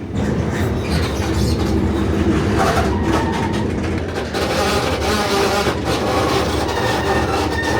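Continuous rumble and rattle inside a moving train carriage, with creaks and squeaks from the rubber connectors between cars and occasional clicking, no talking.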